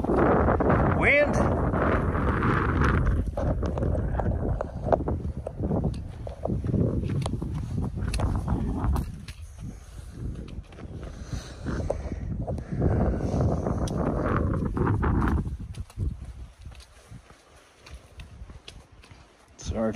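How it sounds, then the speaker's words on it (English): Strong gusty wind buffeting the microphone on a wilderness hike in the Gila Wilderness, a loud continuous roar that swells and fades over several seconds, close and rumbling, with no talk over it. "Wind!"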